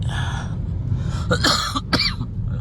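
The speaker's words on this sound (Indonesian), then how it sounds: "Maaf, masih sisa-sisa batuk." A person coughs a few times in quick succession, close to the microphone, over a low steady background hum.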